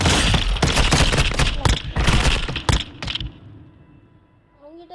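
Rapid gunfire rattles in a Call of Duty Warzone Mobile match, a loud string of sharp shots and bursts that stops abruptly, leaving quiet game ambience and faint tones.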